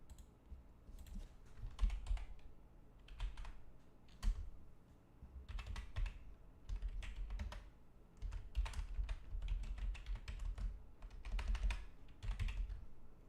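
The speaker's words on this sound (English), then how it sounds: "Sorry, I'm typing this out right now." Steady typing on a computer keyboard during a stock trading session, close and continuous clicking in irregular bursts over a low background hum, with no talking.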